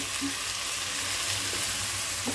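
Onions and tomatoes sautéing in a pan for paneer butter masala, a loud, continuous sizzle with occasional stirring scrapes and spatula knocks, close up and without speech.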